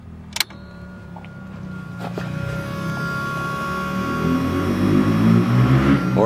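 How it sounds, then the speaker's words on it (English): A motorcycle passing on a nearby road, its engine growing from a faint distant drone into a louder rising roar, with a sharp knock near the start. "listen to the motorcycle going by"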